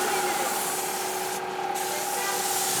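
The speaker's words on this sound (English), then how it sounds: "I think we're getting some nice like spray sounds" A spray paint can hisses in a continuous, close, steady stream for a few seconds, with a short break midway.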